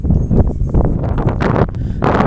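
Wind blows steadily across a dam bank on a drizzly, overcast day where cows graze, buffeting the microphone with a rough, gusty rumble throughout and no voices.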